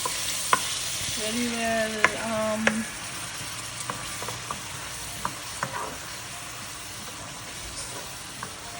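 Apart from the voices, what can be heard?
onion, garlic and ginger being stir-fried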